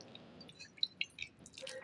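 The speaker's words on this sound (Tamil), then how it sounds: "இதுலேயும் கொஞ்சம் தண்ணி தெளிச்சுட்டு" Water is sprinkled over a potted mint plant, producing a few soft, close drips and patters that land irregularly in a quiet space.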